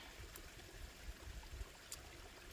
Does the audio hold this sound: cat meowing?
no